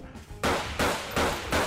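A modded weapon firing in Garry's Mod: four loud, evenly spaced broadband bursts about every 0.4 seconds, each a sharp blast with a short fading tail, close and dominant with no talk.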